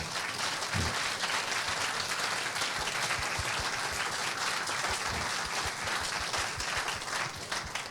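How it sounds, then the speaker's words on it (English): An audience at a talk applauds steadily, a dense even wash of clapping lasting the whole stretch at moderate distance, with no speech. "Please, an applause for Tan Sri Ashad"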